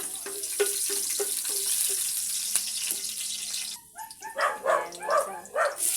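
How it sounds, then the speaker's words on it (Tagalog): Garlic being sautéed in cooking oil in a home kitchen for adobong kangkong, a steady hiss of frying with scattered light clatter of utensils, close and moderately loud. "maglagay na tayo ng mantika. Yan, magisa na tayo ng bawang."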